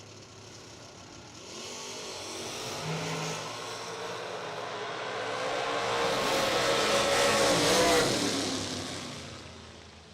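A clean Camaro bracket-racing at a drag strip in Brunswick, Georgia launches and accelerates, its engine rising to a loud, close roar around the midpoint before fading slightly, with no talk over it.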